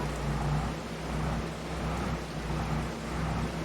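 Steady rain falls in Farming Simulator 22, a dense even hiss that continues without a break over a low rumble and hum, with nobody talking.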